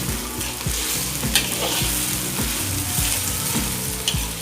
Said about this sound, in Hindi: अब इसको हम फ्राई करेंगे, इसका कलर चेंज थोड़ा सा करेंगे